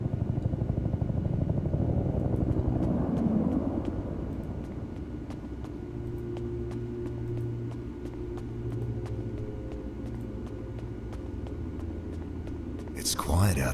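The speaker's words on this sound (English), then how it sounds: "Is that the evac chopper?" An evacuation helicopter in a video game, a low, sustained rumble that swells early, then settles into a steady drone, with talking over it.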